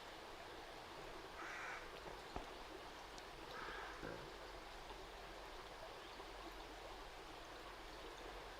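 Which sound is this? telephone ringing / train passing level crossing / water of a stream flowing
water of a stream flowing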